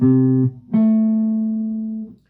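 Two sustained tones sounding together as a major sixth interval, steady, briefly cutting off and then returning, clean and close with a slow fade.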